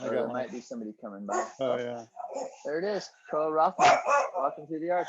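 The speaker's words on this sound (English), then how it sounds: "She barks at nothing." An old dog gives several barks close by, overlapping with people talking.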